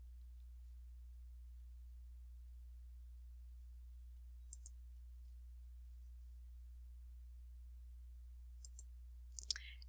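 A computer mouse clicks faintly a few times over a steady low hum, with one pair of clicks midway and a short cluster near the end.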